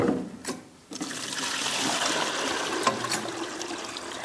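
Water draining out of an Emery Thompson ice cream machine, a steady trickling rush that follows a couple of brief clanks at the start and then runs continuously at moderate level.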